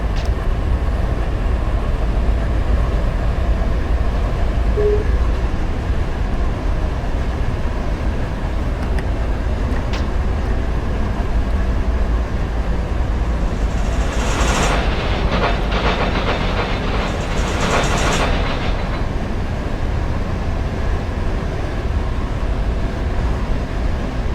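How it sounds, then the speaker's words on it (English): A train passing through Barstow, a continuous loud rumble with rhythmic clacking that swells in the middle and fades, heard alone without talk. "I could just picture all these trains going by now."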